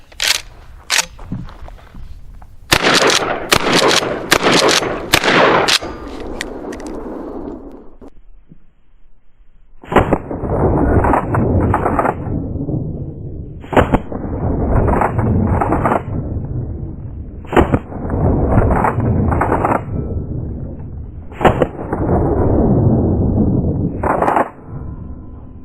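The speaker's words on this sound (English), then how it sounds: "I'm going to shoot my wall and then we're going to watch it in slow motion." A 12 gauge shotgun loaded with Aguila Mini Shells and Federal Shorty shells is fired at a wall outdoors. There are sharp loud reports, several in quick succession early on, then spaced single shots each followed by long rumbling echoes.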